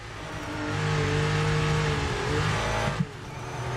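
Racing video game cars slowing hard into a corner, a steady loud engine drone that dips in pitch and volume, with a short sharp knock near the end.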